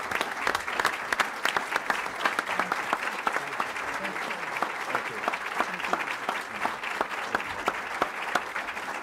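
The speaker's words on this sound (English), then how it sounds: "let's give a big final round of applause to Chris and Dale for their incredible generosity" Steady applause from the audience at a press conference announcing the Smith family's $20 million donation, dense clapping sustained for about nine seconds with sharp individual claps standing out at a moderate distance.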